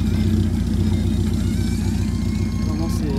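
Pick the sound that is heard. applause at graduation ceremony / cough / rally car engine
rally car engine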